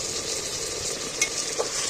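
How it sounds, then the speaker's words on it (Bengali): Ginger-garlic paste is stir-fried in a hot pan, giving a steady soft sizzle with scraping stirs and a couple of brief clinks of the spoon against the metal. "আমি ভালো করে নেড়ে নেড়ে কষিয়ে নেব"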